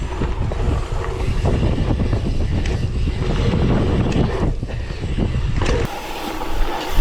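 Steady, heavy wind buffeting the microphone, a loud broadband roar that gusts and rumbles throughout, easing slightly near the end.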